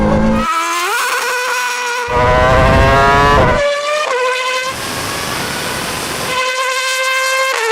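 A Porsche 918 Spyder and a Red Bull RB8 Formula One car run a rolling drag race from 50 mph in third gear, with loud, high-revving engines climbing through several rapid upshifts.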